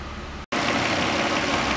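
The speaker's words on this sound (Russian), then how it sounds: "Вот работа, звук работы двигателя." A 2004 Toyota Harrier MCU30 engine runs steadily after a throttle body replacement, a loud, even idle hum that continues on after a brief cut near the start.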